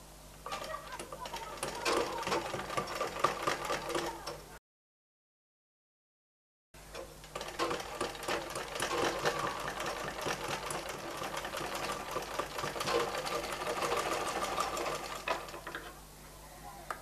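A sewing machine runs in rapid continuous bursts stitching a baby frock, pausing briefly midway before resuming with a steady mechanical chatter, close and alone.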